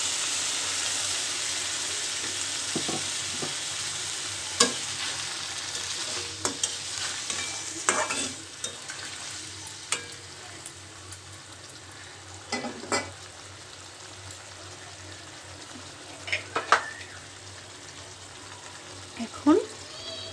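A pan of spices, potato and pointed gourd keeps up a steady hissing sizzle as a little water is added, with scattered spoon scrapes and clicks across about twenty seconds.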